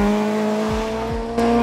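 A Ford Escort rally car at the Killarney Historic Rally screams past close by, its engine note holding high and loud, then dropping with gear changes and a sharp pitch shift as it goes by.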